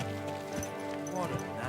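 A horse's hooves clip-clop briefly beneath a steady wash of voices and tonal background sound, the steps muffled and partly masked.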